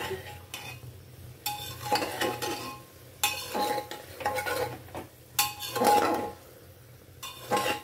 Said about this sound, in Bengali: চিনি দিয়ে ভালো করে নাড়িয়ে নিলাম।